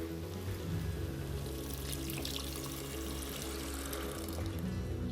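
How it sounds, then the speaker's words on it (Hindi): About one and a half cups of water pours steadily into a pan of fried potatoes for an aloo jhol curry, a continuous splashing gush lasting several seconds at close range. "आलू बिल्कुल हो गया है, बिल्कुल भुन गया है, तो इसमें हम पानी डाल देते हैं।"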